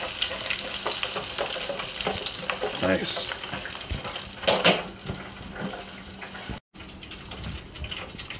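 Onion rings frying in hot oil, a steady close sizzle and crackle running throughout, with brief clatter and stirring noises and a few louder pops along the way.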